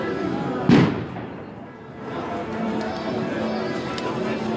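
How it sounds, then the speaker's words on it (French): A single sharp blast bursts out during a street protest, like a firecracker or small explosive, followed by a noisy crowd murmur and distant voices, with another faint pop near the end. "Je sais pas d'où viennent les explosions."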